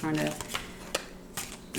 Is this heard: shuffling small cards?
yes